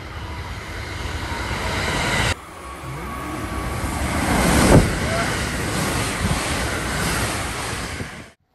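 Steady rumbling heard from inside a train, with a rushing, windy roar, shifting abruptly on entering a tunnel, and a brief squeal midway.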